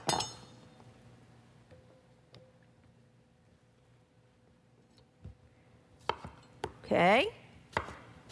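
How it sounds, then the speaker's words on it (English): A knife slices fresh potatoes in a home kitchen, with a few quick, close cuts after a long, nearly quiet stretch, and a brief spoken word among them. "And as I slice these, I'm going to put them down into that chili mixture."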